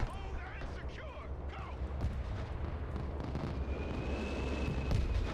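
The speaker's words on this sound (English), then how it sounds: "These are anti-tank guided missiles and they're firing at infantry." Anti-tank guided missiles fire at infantry in a video game, a rumbling barrage of booms and launches layered into continuous low-end battle noise, with voices talking over it.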